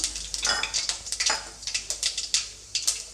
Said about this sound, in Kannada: ಎಣ್ಣೆ ಕಾದ ಮೇಲೆ ಒಂದು ಸ್ವಲ್ಪ ಸಾಸಿವೆ ಒಂದು ಸ್ವಲ್ಪ ಜೀರಿಗೆನ ಹಾಕ್ಕೊಳ್ತಾ ಇದ್ದೀನಿ